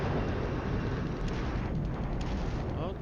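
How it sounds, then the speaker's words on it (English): Artillery shelling an enemy headquarters in the wargame Flashpoint Campaigns: Southern Storm, a dense, steady low rumble of bombardment that holds loud throughout with no clear gaps between blasts. "Our artillery managed to bombard enemy HQ."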